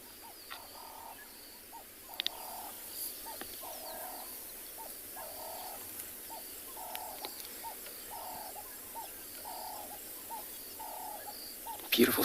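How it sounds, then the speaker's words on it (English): Birds call through a sunrise safari morning, a repeated rhythmic cooing phrase like a dove's sounding every second or so at middle distance over faint steady ambience, with a couple of brief clicks. "Beautiful sound of a bird."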